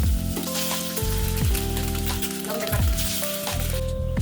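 Noodles sizzle as they fry in a pan during home holiday cooking, a steady crackling hiss that runs the whole time under a louder layer of tonal background music.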